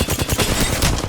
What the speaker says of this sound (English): And I just start shooting.